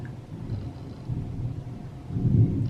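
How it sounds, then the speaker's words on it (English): Thunderstorm with low rolling thunder rumbling through steady rain, building to a louder, deeper swell near the end, with no voices. "there is a thunderstorm occurring right now, so I'm sorry if you can hear rain and or thunder"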